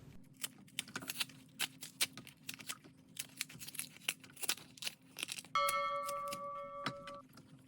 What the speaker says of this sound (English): To peel the plantain, cut the ends off, then cut a slit through the peel,